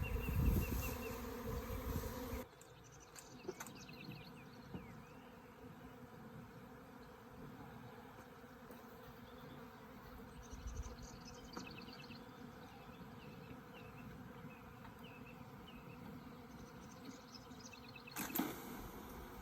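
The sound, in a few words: honeybee swarm buzzing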